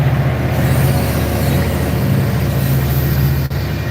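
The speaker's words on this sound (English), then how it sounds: "oh, there's the train, y'all. That's the train we took to Chicago." A passenger train passes with a steady loud rumble and faint wheel squeal, close by, alone with a brief knock near the end.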